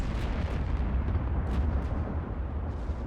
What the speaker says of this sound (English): We don't have all of our turrets firing right now from the battleships